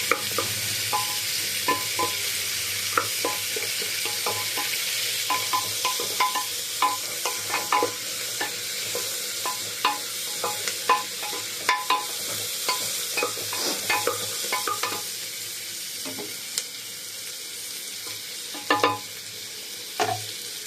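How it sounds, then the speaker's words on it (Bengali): Chopped onion frying in a pot for chicken soup is stirred steadily, a continuous close sizzle punctuated by regular scraping and tapping strokes of the spoon, with no one talking. "কুচানো পেঁয়াজ দিয়ে একটুখানি নাড়ব যতক্ষণ না কালারটা গোল্ডেন ব্রাউন উঠছে"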